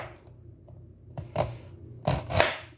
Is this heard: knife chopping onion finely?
yes